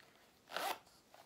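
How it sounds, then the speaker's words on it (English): A zipper runs once along the compartment of an all-leather wallet, a quick, close, faint rasping pull that lasts under a second in a quiet room. "what I'll show you here is the zipper compartment."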